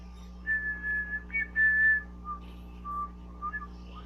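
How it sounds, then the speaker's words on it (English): A drinking straw whistling as air is blown through it, thin high-pitched tones coming in short uneven bursts, faint and close over a low background hum. "make sure it's not a straw that's whistles like this, because you're gonna hear that whistling sound"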